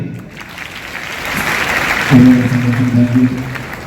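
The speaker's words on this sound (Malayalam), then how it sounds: "നല്ലൊരു കൈയടി" Crowd clapping swells into a broad wash of applause at Konni Fest 2024 in Kerala, with a voice and a held tone coming in partway through.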